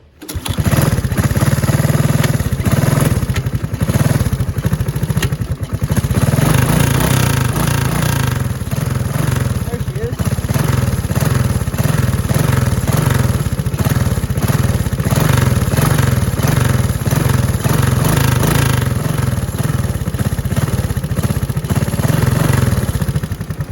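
A 1984 Honda ATC 200 S three-wheeler, once seized, runs with a loud, steady, close single-cylinder chug and a rough clattering idle that never lets up.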